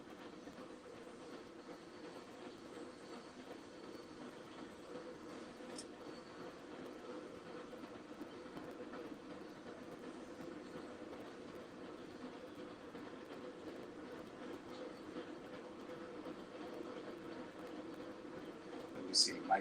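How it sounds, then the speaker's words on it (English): A train passes by as a steady low rumble and rolling drone that holds for nearly twenty seconds, with a couple of sharp clicks and a rise in level toward the end. "I do a live and then the train wants to come through."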